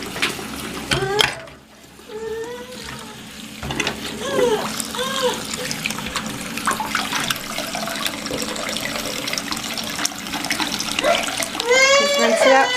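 Tap water runs steadily as a critter spray gun is rinsed under it, a continuous splashing stream with plastic knocks and a voice chiming in briefly near the end.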